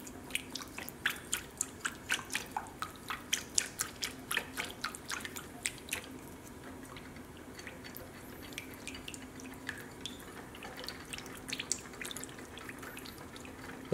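A whisk taps and clicks quickly against a bowl while salad dressing of oil and pepper is mixed, the strokes loud and rhythmic at first, then slowing to sparse, fainter taps.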